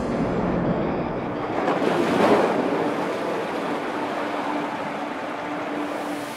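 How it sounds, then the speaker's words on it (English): Ocean surf roaring onto a shore, a steady broad wash of breaking waves that swells to a louder crash near the middle, with wind buffeting throughout and no voices. "We stand on the shore, we listen to the roar of the waves."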